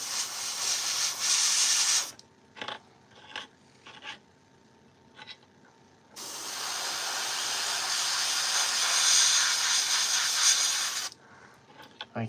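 An airbrush sprays out the last of its paint in two long, close, hissing bursts, separated by a quieter stretch of small clicks and short puffs.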